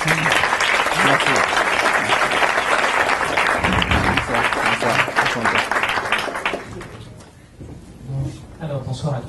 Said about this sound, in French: je vous demande déjà de l'applaudir